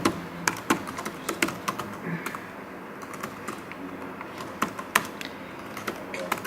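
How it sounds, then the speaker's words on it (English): Fingers tap steadily on a computer keyboard, a close stream of small clicks with a few sharper keystrokes standing out, while a person talks quietly in the background. "Sorry if I was typing"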